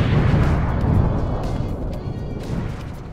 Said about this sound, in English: I took a little break from programming to make a shooting sound effect